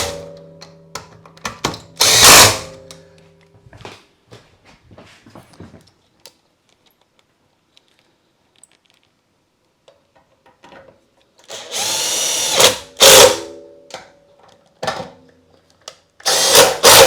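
A power drill drives screws into the mount of a cubic mini wood stove in short, loud whirring bursts separated by quiet gaps and faint handling clatter, with a cluster of drill runs toward the end.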